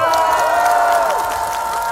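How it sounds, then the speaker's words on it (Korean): A crowd at a Korean political rally claps and cheers in a dense, steady roar that fades slightly toward the end, with no speech on top. "용기 내서 한번 떠들어 보라고 응원의 박수 한 번만 부탁드리겠습니다"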